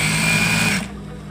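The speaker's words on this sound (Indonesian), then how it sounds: "Barulah kita jahit, ini ditarik full, barulah kita jahit lagi ya seperti ini" A sewing machine stitches a fabric bed skirt in a steady, fast whirring run that is close and loud, then stops abruptly, leaving quiet room sound.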